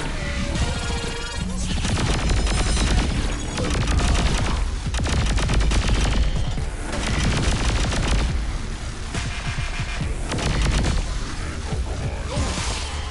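An upgraded gun fires in Saints Row 4, a near, loud, dense burst of gunfire and crashing impacts that carries on through most of the stretch with short pauses between volleys.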